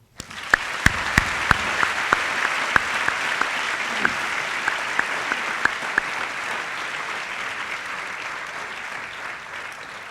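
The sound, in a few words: audience round of applause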